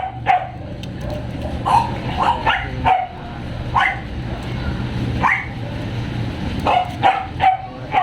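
A Pomeranian and a Corgi bark in short, sharp bursts, yipping repeatedly and close by across several seconds over a low background hum.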